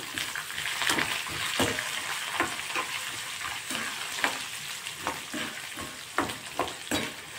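Chopped coriander frying in hot tempering oil in a pan, a steady close sizzle broken by repeated scraping stirs of a spoon against the pan, with no talking.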